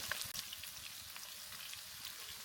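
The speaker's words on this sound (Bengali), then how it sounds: "পেঁয়াজটাকে ভেজে নেব" Onions fry in half a cup of hot oil in a pan, giving a steady, close hiss of sizzling with faint crackles and no talking.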